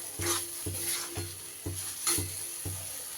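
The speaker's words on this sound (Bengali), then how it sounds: "খুব ভালো করে নেড়ে চেড়ে কষিয়ে নিয়েছি।" Spice paste frying in oil for a cauliflower and prawn malaikari is stirred in steady, evenly spaced scrapes, about six strokes over a soft continuous sizzle, close and moderately loud.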